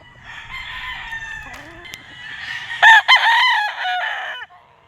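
A White Kelso gamefowl bull stag at a gamefarm crows loudly and close by, one full drawn-out cock-a-doodle-doo preceded by a few low clucks.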